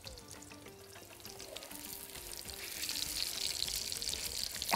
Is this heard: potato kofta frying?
yes